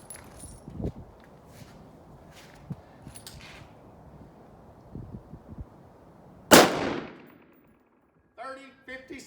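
A Colt 6920 AR-15 with a 16-inch barrel fires one sharp, loud rifle shot over a chronograph, followed by a decaying echo, after quiet outdoor background and faint movement.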